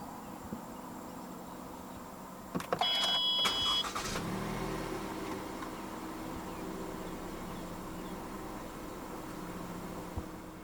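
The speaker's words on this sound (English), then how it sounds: "to start the Camry, make sure the key fob is inside the car. Put your foot on the brake and press the start button" A 2018 Toyota Camry 2.0 GX (XV50) starts at the push of a button, with a short starter crank and chime, then settles into a quiet, steady idle with a faint insect-like hiss in the background.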